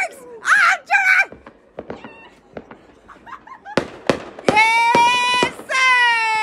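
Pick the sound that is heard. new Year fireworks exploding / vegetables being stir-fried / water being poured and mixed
new Year fireworks exploding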